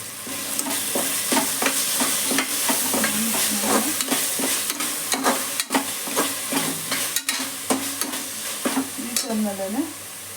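Ginger garlic paste frying and being stirred in a pan for chicken gravy, a steady close sizzle broken by repeated scraping stir strokes, with no voices.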